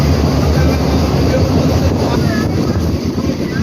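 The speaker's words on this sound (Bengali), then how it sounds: "আমরা কিন্তু ট্রেনে উঠেছি। তো ট্রেনে করে যেতে হবে।" A passenger train runs between Kodur and Ontimitta in Andhra Pradesh, heard from inside as a loud, steady, continuous rumble and rattle.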